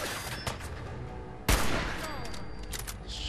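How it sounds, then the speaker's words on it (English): Gunfire in the video game Fallout 4, a few scattered shots with one sharp, louder report in the middle, heard over a low game background hum. "It's gunshots."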